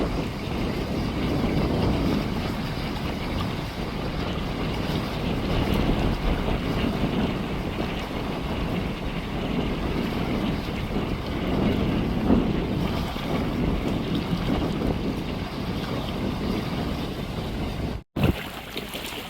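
Strong wind and lapping waves on the Mekong River bank at Vientiane, Laos, a steady rushing roar with buffeting wind noise on the microphone, continuous and loud with no talk.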